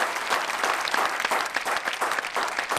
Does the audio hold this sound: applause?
yes